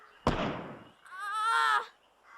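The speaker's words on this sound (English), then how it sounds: "There was an explosion." A single sudden explosion sound effect in an Oliver Twist audiobook, a sharp loud burst with a broad decaying rumble, followed by a brief higher whistling, wavering tone before fading out.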